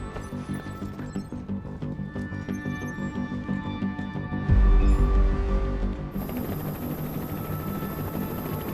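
Three military helicopters fly overhead in a Chinese army drama, giving a steady, rhythmic mechanical rotor drone. A heavy low rumble swells midway, and no one speaks.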